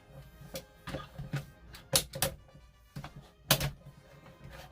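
Ratchet joints of a Transformers War for Cybertron Earthrise Scorponok toy clicking as the limbs are moved, a close series of sharp, uneven clicks and small thunks with brief pauses.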